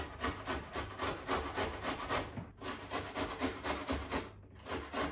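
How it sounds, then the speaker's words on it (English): A small onion is grated on the large holes of a box grater, producing rapid rhythmic rasping strokes, close and fairly soft, with two brief pauses between bursts. "Now I want to grate a small onion."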